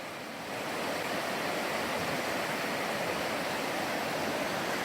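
Deep, murky, fast-moving creek in Montana, a dense steady rushing roar of water that stays loud and continuous throughout, heard alone without voices.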